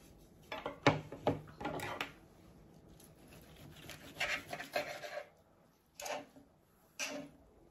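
Cutlery clinks and scrapes against a plate while a steak salad with medium-rare steak is eaten, coming in scattered short bursts separated by quiet pauses.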